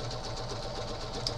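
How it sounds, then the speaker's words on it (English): A sewing machine hums steadily at low volume during quilting, an even mechanical whir with a faint rhythmic pulse and no talking. "I feel your pain, sewing machine."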